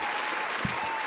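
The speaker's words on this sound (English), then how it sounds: "Let's get some applause for that." Brief audience applause on a morning talk show, a soft, even patter of clapping from a small group, faint and steady with a low voice briefly surfacing.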